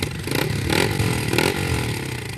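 A Honda Monkey motorcycle engine putters and revs close by, rising in a few surges with a rattly, mid-pitched tone.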